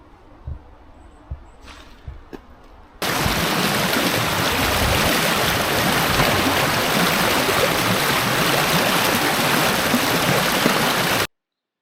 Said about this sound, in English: I knew there was a waterfall here.